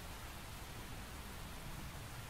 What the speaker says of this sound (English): The rain's starting to let up, just in time for sunrise.